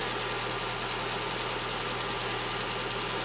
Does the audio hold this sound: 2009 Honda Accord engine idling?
yes